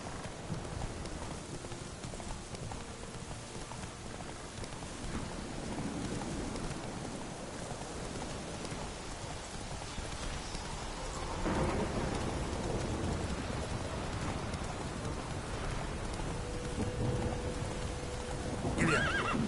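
Roach, a horse in The Witcher video game, neighs and whinnies amid steady galloping clip-clop hoofbeats, set against continuous rain and rumbling thunder, loud and constant throughout with no talking.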